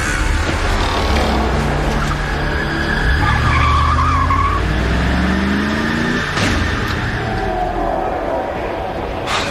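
Car tires squeal and skid loudly as the engine revs and the car speeds away, a drawn-out screech lasting several seconds with a short voice heard briefly over it.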